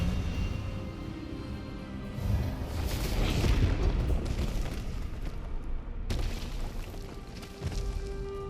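A spell cast in the Hogwarts Legacy video game: a loud magical burst with booming, explosive impacts and a rushing swell that rises mid-clip, cuts off briefly, then resumes, over a dense low rumble.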